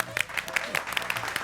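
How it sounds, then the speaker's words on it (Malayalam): Applause from an audience at a magic circus show, quick scattered claps under a speaking voice, moderately faint. "ഒന്ന് കൈയടിച്ചേ."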